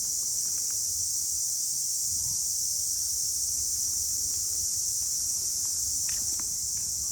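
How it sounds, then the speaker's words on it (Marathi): Crickets chirp steadily in a rainy forest near Tungareshwar temple in Vasai, a dense continuous high-pitched trill forming a quiet background with faint scattered rustles and no talk. "तुम्हाला आवाज ऐकायला येतोय रातकिड्यांचा"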